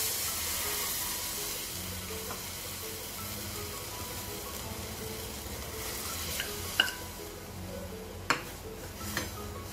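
Flour batter with turmeric and cumin is stirred steadily in a pan over a constant low sizzle and hiss, with a few sharp spoon-against-metal clinks near the end.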